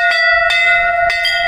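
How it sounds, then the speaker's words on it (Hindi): Temple bells at Nanda Devi temple ringing close and loud, three bright metallic strikes whose sustained overtones overlap and hum between hits. "ये वाला घंटी, वो वाला घंटी"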